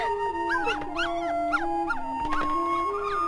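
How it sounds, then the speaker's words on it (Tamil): A puppy whimpers and howls in a series of rising, wavering high-pitched cries, close and clear over a sustained musical tone, with no talking. "உனக்கு நாய்க்குட்டினா ரொம்ப பிடிக்கும்ல அதான் வாங்கிட்டு வந்தேன்"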